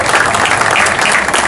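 Invited guests at a municipal palace inauguration ceremony applaud, a dense, loud, steady wash of clapping close by with no voices.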